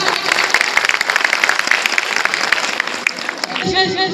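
Dense applause from a crowd at a BJP women's outreach gathering on the budget, steady rapid clapping sustained for about four seconds before thinning at the end, with a voice faintly mixed in.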